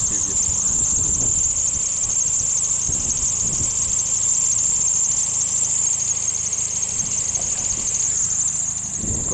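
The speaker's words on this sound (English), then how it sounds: "You'll notice almost right away, you'll hear it. It's got a rough idle." A 2001 Chevy Cavalier Z24 engine idles roughly nearby, a steady loud running drone with a persistent high-pitched squeal and uneven low thumps throughout.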